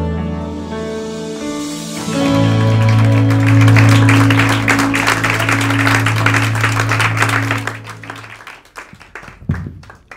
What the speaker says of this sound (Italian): Un applauso ancora a Gianmarco